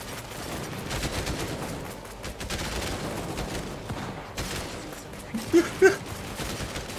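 Gunfire in the Cepheus Protocol video game, a low rumble of distant shooting under a continuous muffled battle wash, with a couple of louder sharp reports near the end.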